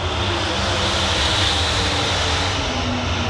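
Micro sprint race cars taking the green flag for a heat race on a dirt track, a dense continuous engine roar filling the air, loud and steady with no clear breaks or talk.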